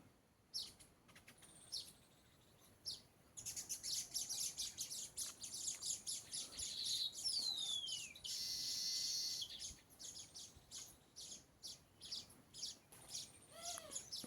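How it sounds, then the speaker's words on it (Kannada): Birds calling in an open natural setting, a busy run of chirps, tweets and whistled trills near and mid-distance, with a brief rising whistle and a stretch of dense twittering. "ಪಕ್ಷಿ ತುಂಬ ಚೆನ್ನಾಗಿದೆ ಪಕ್ಷಿ"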